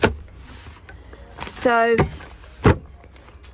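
Drawers in a camper van slide open and shut: a scraping glide with a rising squeak, then a solid close-by thud as one closes, alongside a few knocks and brief talking.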